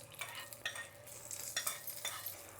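A hot tempering of fried urad dal is stirred into a chutney, giving a faint, close crackling sizzle broken by soft scraping stirs and light clinks of a spoon against the pot.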